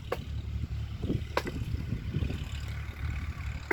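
A tractor engine rumbles low and steady while pulling a seed drill sowing soybean and pigeon pea, with a few sharp metallic clicks over the drone, no talking.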